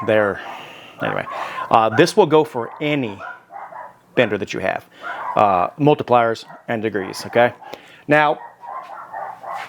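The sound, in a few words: dogs barking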